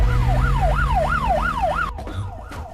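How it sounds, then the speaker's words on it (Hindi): A loud police siren wails up and down in quick repeated sweeps, close by, then cuts off abruptly into rumbling noise. "ये तो पुलिस का सायरन है।"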